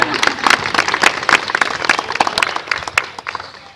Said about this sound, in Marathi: चला टाळ्या यांच्यासाठी, सगळ्यांसाठी टाळ्या.